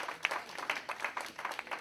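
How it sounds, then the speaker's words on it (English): A small audience claps briefly for a spelled word during a talk, light scattered claps of modest volume with a few sharper hits. "let's clap for that"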